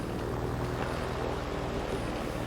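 A small general aviation airplane taxis to parking in Microsoft Flight Simulator 2020, its engine and propeller giving a steady, even drone at moderate distance with no break.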